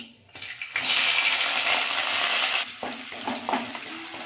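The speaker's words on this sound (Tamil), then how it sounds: "எண்ணெய் ஊற்றி கடுகு போட்டிருக்கிறேன். கடுகு பொரியுது." Mustard seeds, cumin and onion frying in hot oil for a bottle gourd and peanut kootu, a loud, close sizzling hiss that swells and holds, then gives way to lighter popping and crackling spatters.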